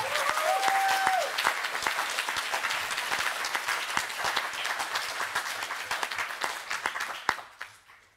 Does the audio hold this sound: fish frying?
no